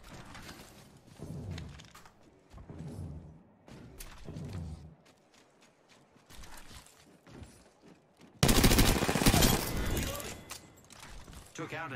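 Bursts of automatic gunfire from an Apex Legends match, scattered shots early on, then a loud sustained volley near the end, mixed with talk from players and in-game announcer lines.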